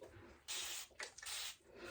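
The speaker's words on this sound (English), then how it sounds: "So just water in my little water bottle spray that I love." A handheld water spray bottle mists hair in three quick hissing bursts, close and soft, with no talking.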